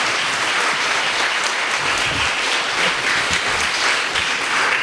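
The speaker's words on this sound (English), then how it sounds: "Let us give them all a big round of applause." A hall crowd at a school event, Sarvodaya Central Vidyalaya's Dynamo 2K21, breaks into loud, sustained applause, dense even clapping filling the whole stretch with no talk over it.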